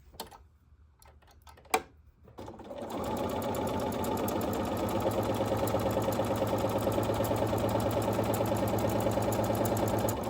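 A sewing machine stitches quilt blocks, starting after a few clicks and taps of handling and then running in a fast, even, rhythmic chatter, loud and close, for the rest of the stretch.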